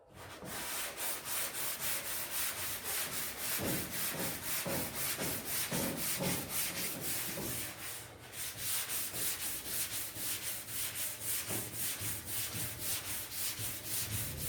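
Steady back-and-forth sanding strokes rubbing down body filler on a car panel, a continuous loud abrasive rasp with a regular stroke rhythm and one brief pause midway.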